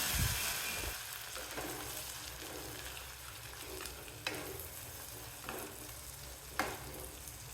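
Chopped citron pieces and their juice fry in hot oil for a Tamil citron pickle, giving a steady close sizzle with a few sharp spits and crackles and no talking.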